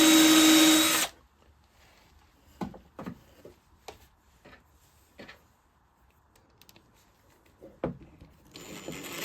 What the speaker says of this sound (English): Drill the clearance hole